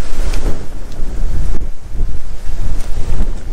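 Strong headwind buffets the microphone on a sailing boat heading toward Paklenica canyon in the Kvarner area, loud gusting rumbles rising and falling, with faint water wash beneath.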